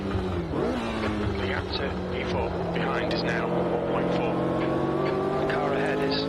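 A 1967 Formula 1 race car in the Automobilista 2 racing game at Kyalami, South Africa, drops through the gears under hard braking, then the engine note climbs steadily as it accelerates out of the corner, loud and continuous, with someone talking over it.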